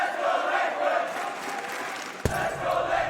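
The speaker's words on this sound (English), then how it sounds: "I'm hearing a lot of Faze fans" Esports crowd of fans at the BLAST Pro Series Global Final 2019 in a Counter-Strike match between Faze Clan and Team Liquid, a steady roar of cheering and chanting that swells briefly, heard without nearby talk.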